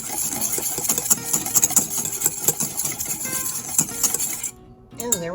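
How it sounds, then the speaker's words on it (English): Quick metallic whisking clatters against a pan as smoke seasoning is stirred into BBQ tofu and veggies, busy irregular clinks up close, ending in a short pause and a faint trailing sound. "we're going to add our smoke seasoning. And just give it a really good whisk."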